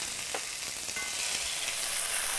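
Chicken frying in a pan on a stovetop gives a steady, close sizzle that runs throughout with no talking.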